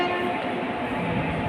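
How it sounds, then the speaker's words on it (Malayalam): Train at Thrissur railway station, a loud sustained horn-like tone layered over a dense rumbling rail noise, close and continuous for the whole short stretch. "ഹോണടിച്ചു"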